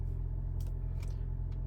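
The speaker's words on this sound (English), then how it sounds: "There goes the car turning over. So it does start the car up. The car runs." A Lexus HS250h hybrid sedan runs after starting, its engine a steady, low, close rumble with a few brief higher-pitched sounds over it.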